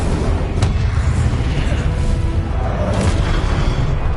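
A fiery Incendio spell blast from the Hogwarts Legacy video game, sounding as a dense, continuous roar of booming low rumble with sharp bursts near the start and again past the middle.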